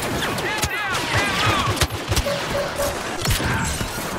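Star Wars Battlefront combat erupts with blaster fire, scattered shots and explosive bursts layered over one another, busy and loud, with sci-fi whines and clashes mixed through the battle din.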